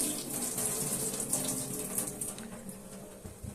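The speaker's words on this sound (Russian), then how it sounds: "Ошпариваю." Boiling water is poured over garlic in a colander, a steady splashing gush with draining trickles, close and continuous, tapering slightly toward the end.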